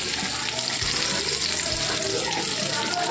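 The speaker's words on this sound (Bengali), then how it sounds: "ডিমগুলোকে হালকা করে ফ্রাই করে নিচ্ছি" Eggs lightly frying in oil in a pan for Bengali egg pulao, a steady close hiss and crackle of sizzling throughout with no talk.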